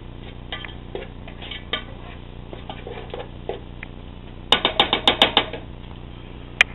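A utensil scrapes and clatters against a pan while aloo gobi is stirred. Soft, irregular taps come first, then a quick run of sharper metallic knocks and one final clink.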